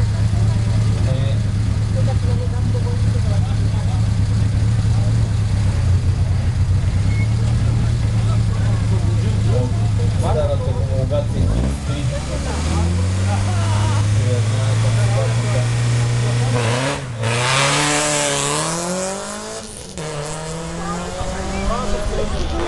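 At the start of Rally Bulgaria in Sliven, a rally car's engine holds a steady loud drone, then revs up and down in rising sweeps, with a commentator talking over it throughout.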